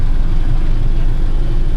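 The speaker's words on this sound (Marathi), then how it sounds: "गाडी चालू झाली" Car engine running steadily just after starting, a continuous low rumble with a hum that holds even and loud throughout, no voices over it, as a family sits in their newly arrived car.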